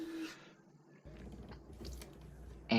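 An SSD being screwed onto a PC motherboard inside a Lian Li A3 case, with faint, close screwdriver creaks and small mechanical turning sounds over a low hum, ending in a brief louder scrape.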